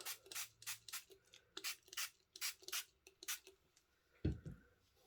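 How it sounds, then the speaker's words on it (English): A spray bottle of Brusho ink hisses in a quick series of about a dozen short, sharp spritzes, close by. A soft thump follows. "I'm going to spray it a little bit more."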